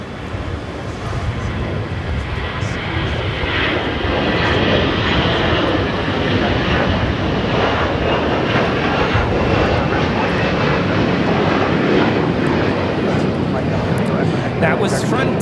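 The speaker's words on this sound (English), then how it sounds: "That was Frontier 4964 taking off to Dallas Fort Worth on an A321 in the Falcon livery" An Airbus A321 jet in Frontier's Falcon livery takes off from Los Angeles airport, a loud, steady broadband engine roar that swells and holds throughout, with people talking over it.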